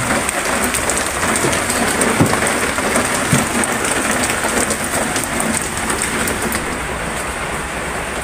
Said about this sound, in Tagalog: yan malakas ang ulan. Talagang tag-ulan na nga.